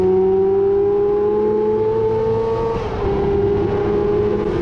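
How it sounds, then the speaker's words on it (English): A Yamaha motorcycle on the Yas Marina North Circuit accelerates hard out of a corner, its loud engine note climbing steadily, easing briefly at a gear change and then rising again, heard close from the rider's position. "Accelerate as you pass turn 9 to get onto the back straight again"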